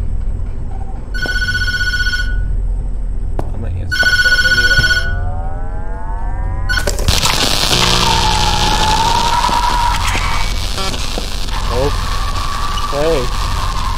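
An electronic telephone rings in two bursts of repeated trills in the horror game Tattletail, followed by game sound effects, rising tones and a busy mix of noise.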